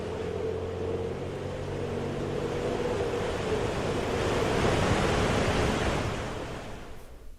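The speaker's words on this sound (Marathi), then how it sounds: "मुंबई आणि उपनगरामध्ये गेल्या काही तासांपासून मुसळधार पाऊस कोसळतोय" A dense, broadband roar of heavy monsoon rain in Mumbai swells slightly and then eases off, steady and loud with no voices.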